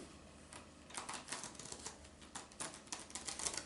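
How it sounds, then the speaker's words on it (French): A deck of playing cards is shuffled, giving a quiet series of rapid flicking and riffling snaps in uneven bursts, close by and faint, with no speech. "Donc, tu vas mélanger les cartes, comme ceci."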